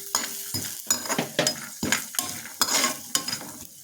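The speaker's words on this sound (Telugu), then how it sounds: "కొబ్బరి నూనెలో కొబ్బరి ఫ్రై చేస్తున్నాం" Grated coconut fries in coconut oil in a pan, a steady sizzle broken by repeated scraping stirs from a utensil, close and fairly loud with no voices.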